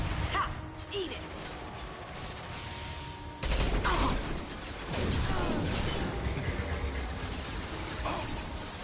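Video game gunfire from Mass Effect: dense bursts of weapon shots and crashing impacts over a continuous battle din, loud and busy throughout.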